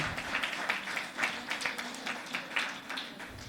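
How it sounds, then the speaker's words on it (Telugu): A church congregation at a Sunday service claps loudly together, a dense run of sharp hand claps with uneven rhythm over a roomy background. "చప్పట్లు కొట్టాలి, గట్టిగా కొట్టాలి."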